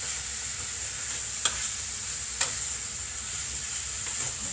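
Onion fries in a pan for beef curry, a steady soft sizzle with a couple of brief clinks of a utensil stirring, heard alone without talk.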